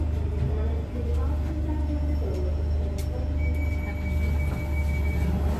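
A London Underground Jubilee line train runs with a steady, heavy low rumble that holds evenly throughout, with faint thin squealing tones above it.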